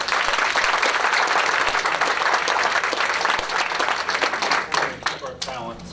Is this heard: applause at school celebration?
yes